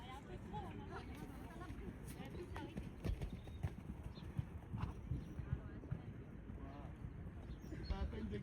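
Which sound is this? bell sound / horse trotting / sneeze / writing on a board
horse trotting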